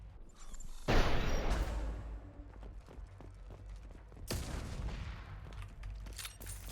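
Single rifle shots in Mass Effect 2: two separate loud reports about three seconds apart, each followed by a decaying echo, with faint footsteps and clattering in between.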